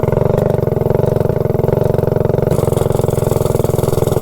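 A mini bike engine with a cheap clutch and highway gearing runs loud and close at higher speed, its rough pulsing drone sputtering unevenly and sounding choppy throughout.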